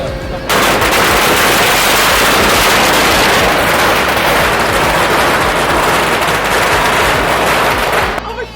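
Long strings of firecrackers crackle through a Chinese wedding procession of decorated cars, a loud, dense, rapid barrage of pops that starts abruptly and keeps going for several seconds before cutting off.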